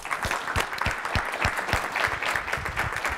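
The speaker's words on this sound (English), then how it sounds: "want to give you a round of applause" Applause for a presenter at an academic event honoring associate professors, a steady patter of many hands clapping throughout, moderately loud and continuous with no voices over it.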